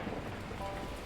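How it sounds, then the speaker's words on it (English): Heavy torrential rain with thunder rumbling in the video game Beacon Pines, a steady dense wash of rainfall with low rolling thunder underneath, moderately loud and continuous. "the heavens opened up, unleashing torrential rain"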